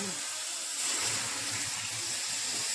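A small splash of water is sprinkled into a pan of bitter gourd podimas seasoned with chili powder, giving a soft, continuous hissing wash at moderate volume with no talk over it.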